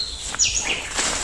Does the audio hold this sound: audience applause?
no